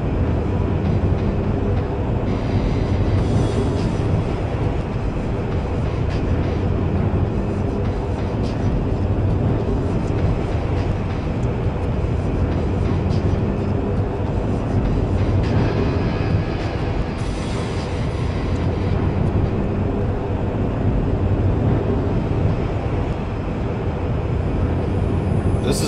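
A long train ride in the video game Chaser gives a continuous, loud, dense rumble and roar of rolling rail travel that holds steady throughout with no pauses.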